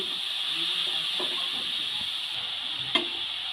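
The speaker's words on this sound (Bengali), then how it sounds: "এবার তেলের ওপর গ্রেট করা ফুলকপিগুলো দিয়ে দেবো ফুলকপিটা খুব ভালো করে তেলের সঙ্গে নেড়ে নিচ্ছি" Grated cauliflower frying in oil for gobi paratha, a steady soft hiss with a few faint stirring knocks and one brief clatter near the end, close and fairly quiet.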